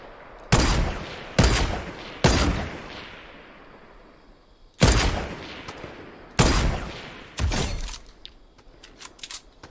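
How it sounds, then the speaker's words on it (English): Repeated sniper gunfire in a shooter video game, about six sharp, loud shots spaced one to two seconds apart, each with a reverberant tail, and faint clinks in between. "I'm really popping off with these snipes."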